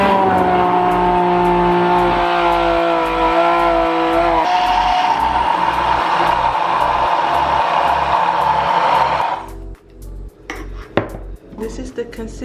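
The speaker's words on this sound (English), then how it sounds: "That's how we turn it on, by just pushing it, and then you can see the little blade is gonna spin under there." A countertop blender runs steadily for about nine seconds with a loud, continuous motor whine and blade churn, then cuts off, leaving a few light clinks and handling sounds.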